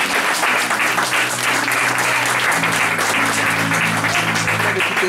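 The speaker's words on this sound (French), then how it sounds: "Est-ce qu'on peut acclamer Jésus encore?" A church congregation in Versailles claps and cheers for Jesus, a dense, steady wall of applause that holds loud and unbroken throughout with a faint hum beneath.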